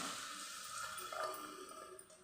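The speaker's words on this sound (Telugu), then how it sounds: "ఈ వాటర్తోనే పోసేసుకొచ్చండి" Leftover cooking water poured into a pan for a soya chunk and chana dal curry, splashing and pouring steadily for a couple of seconds, a continuous liquid rush with small drips, close by and fairly quiet.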